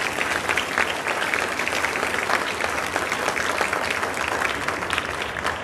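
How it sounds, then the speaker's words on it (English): A church congregation at a Christmas Eve Mass claps continuously and evenly, a dense wash of many hands filling the space without pause. "we are going to clap happy birthday"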